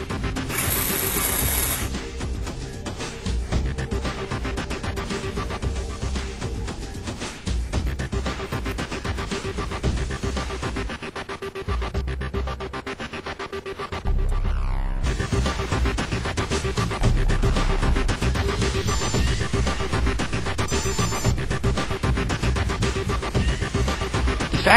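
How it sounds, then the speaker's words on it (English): An RC car electric motor driven through a Tekin FX speed controller whirs and whines continuously with a mechanical ratcheting texture, steady and close, rising slightly in intensity near the end. "Notice the trigger movement and motor sound compared to the previous profile."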